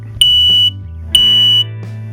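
Home smoke alarm chirping two loud, piercing beeps in a row, each about half a second long, over a low steady hum.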